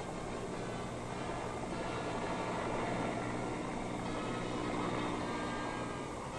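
Huge rotors of a US Army Chinook helicopter over a flight deck: a loud, steady, broadband roar and rumble, continuous and unbroken throughout, with no voices.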